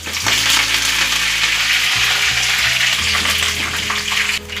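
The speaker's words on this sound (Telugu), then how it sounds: "మనం గోల్డెన్ కలర్ వచ్చే వరకు ఈ పప్పుల్ని ఫ్రై చేసేసుకోవాలి" Lentils, garlic and curry leaves fry in hot oil for a tempering for ginger pickle, giving a loud, steady sizzle that runs throughout, with a few brief shifts as the mix is stirred.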